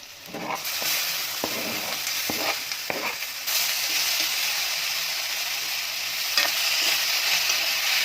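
Chopped tomatoes dropped onto cooked onions in a pan for fish curry, a loud steady sizzle and hiss of frying with scraping stirs early on, close and continuous.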